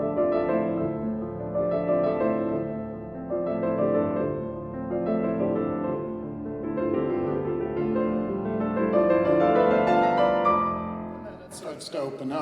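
A piano piece played smoothly and flowingly, with two parallel voices moving together in a compressed line, continuous and moderately loud, ending in a brief noisy burst.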